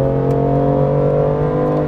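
A BMW M2 Competition with chiptuning accelerating hard uphill, its engine holding a loud, steady droning tone that climbs slightly in pitch, heard from inside the car with no talking.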